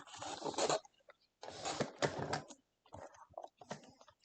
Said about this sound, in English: I'm going to come in and just trim off all these pieces.